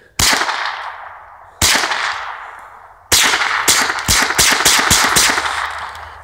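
Pistol shots ring out at an outdoor shooting range: three separate loud cracks spaced over a second apart, then a quick run of about eight shots fired in rapid succession, each with a ringing decay.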